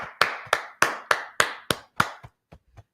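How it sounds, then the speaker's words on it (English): Seven sharp, evenly spaced claps ring out in a steady rhythm in a brotherhood and sisterhood class, then a few softer, scattered taps trail off at the end. "Let's clap it up."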